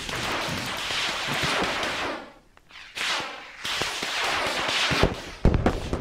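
Artillery firing for effect in the Steel Rain video game, a series of loud sharp blasts and crackling impacts in two dense bursts separated by a short lull, ending with a heavy boom.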